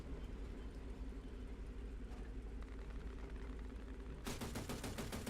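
The M42 SPAA anti-aircraft gun fires in War Thunder, a faint rumbling engine bed joined near the end by a rapid burst of sharp, rhythmic cannon shots.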